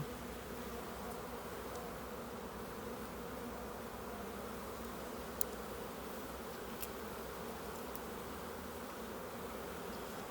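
Steady, dense humming of many honey bees in a hive in February fills the whole stretch, an even droning buzz with no voices.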